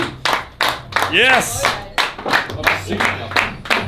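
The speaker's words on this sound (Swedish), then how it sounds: "Applåder" A small group of friends at a drinking party on Gotland clap in quick, sharp bursts close by, with one person letting out a loud excited shout partway through.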